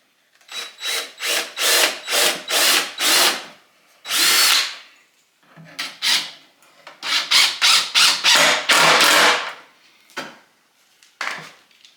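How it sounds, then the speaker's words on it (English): A power drill drives screws into 2x4 lumber for an Adirondack chair, with loud, close bursts of whirring in quick repeated runs, separated by short pauses. "let me try to put a couple of these screws in here,"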